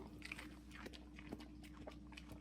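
Faint, quick crunching as a dog bites and chews a crisp green pepper, a few sharp snaps over a quiet background.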